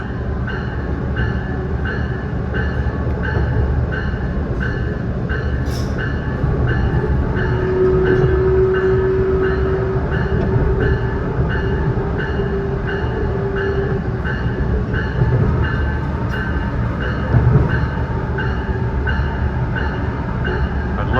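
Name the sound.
Metra Electric train passing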